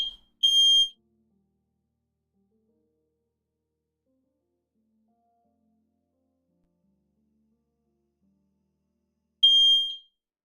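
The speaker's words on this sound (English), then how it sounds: "Yeah, you guys still hear the alarm now?" Smoke alarm in a room giving two short, piercing high-pitched beeps about nine seconds apart, with near silence between them.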